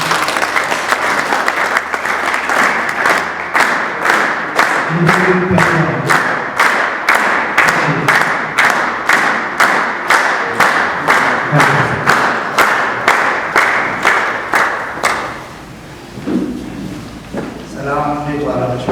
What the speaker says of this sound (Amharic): በአክብሮት ጭብጨባ ሸኙልን።